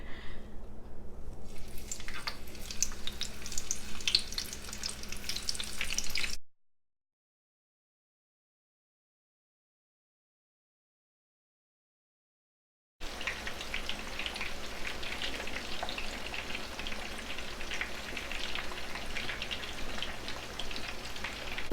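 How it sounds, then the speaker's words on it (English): Fish and onion chunks frying in hot oil give a steady crackling sizzle that fills the first six seconds, then cuts to silence before the dense spattering returns for the rest of the stretch, with no voices over it. "while my fish is frying"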